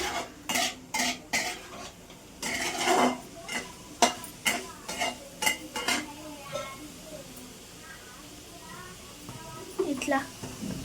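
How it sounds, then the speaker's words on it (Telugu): A spoon works paneer into biryani masala in a metal pan, with rhythmic scraping and clinking strokes, steady at first and then sparser, close up while a person talks over it. "తర్వాత పన్నీర్ని కూడా కలుపుకోవాలి. ఇట్లా సూప్ చిన్నగా కలుపుకోండి"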